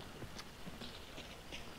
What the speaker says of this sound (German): Achtung, Pferd.